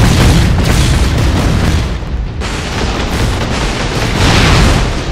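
Loud, sustained blast of a plasma cannon explosion in a video game, a dense rumbling roar filling the whole clip with a brief dip midway before swelling again.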